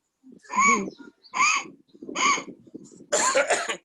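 Four deliberate, throaty coughs in a row, close and loud, sounding like a voice imitating a cough.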